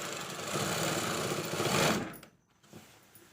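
A sewing machine runs steadily as it stitches the waistband of a girls' uniform skirt, a close, fast mechanical whirring that builds slightly, then stops abruptly before a brief restart.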